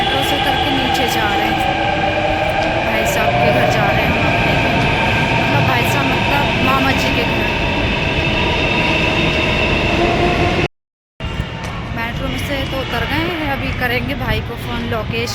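A metro train rumbles and hums at a station, steady rolling noise with a brief cutout near the end, then the drone resumes.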